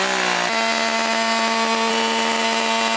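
Chainsaw milling lumber with a freshly sharpened chain, a loud, close, continuous high-revving engine whine that settles into a steady pitch as it cuts through the log.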